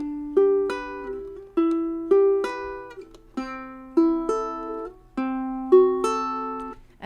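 Ukulele fingerpicking the opening of a Christmas song, plucked notes ringing in evenly spaced phrases of two or three, clear and close with no voice.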